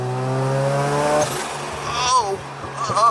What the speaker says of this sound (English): I don't know if you guys can hear this, but there's like a burble tune on this.